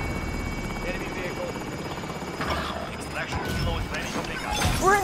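Helicopter in Call of Duty Warzone, a continuous rotor chop and buzzing drone running steadily beneath game effects, with brief clattering impacts and a voice speaking partway through.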